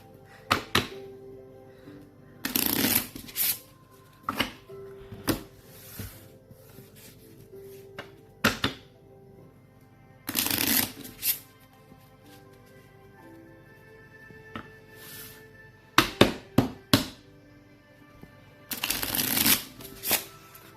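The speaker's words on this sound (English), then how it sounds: "We gotta shuffle all the cards together." Cards from a deck of hero cards for The Yawning Portal board game are shuffled in several quick, close riffle bursts separated by quieter handling sounds, with no talking.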